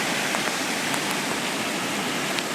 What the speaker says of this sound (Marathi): पाऊसच कसा पडतोय